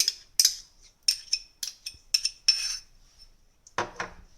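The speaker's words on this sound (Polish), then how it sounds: "mieszamy musztardę razem z majonezem" Mustard and mayonnaise are stirred together for a salad dressing, with a spoon clinking sharply against a bowl in a quick series of close taps, followed by a lower scrape.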